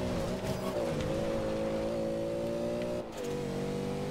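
A lowered road car in Forza Horizon 2 holds a loud, sustained engine rev with a steady droning pitch, dips briefly as if shifting gear, then picks the roar back up, heard alone without talk.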